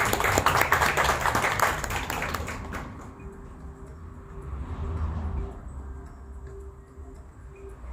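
Audience applause at a cultural reading circle event, loud clapping for about three seconds that then fades into a quieter room with low murmur and faint scattered sounds.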